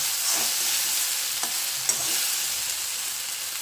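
Brinjal pieces sizzle steadily in a hot pan while a spatula stirs them, making a few faint scraping clicks against the constant loud frying hiss, with no voices.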